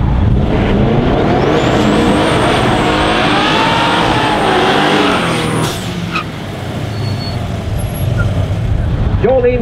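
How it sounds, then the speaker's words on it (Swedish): A black Corvette street race car rolls in at a Swedish street racing championship round, its engine droning loudly and rising in pitch as it revs to warm the tires, with a commentator's voice underneath. "De får rulla in och värma lite däck."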